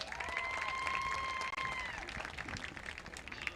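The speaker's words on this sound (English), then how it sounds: "One more gigantic round of applause." A crowd at a football game's senior night applauds a senior cheerleader, with steady clapping and scattered cheers spread across the stands while a loudspeaker voice briefly sounds over the top.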